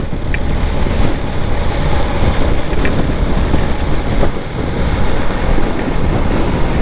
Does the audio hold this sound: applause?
no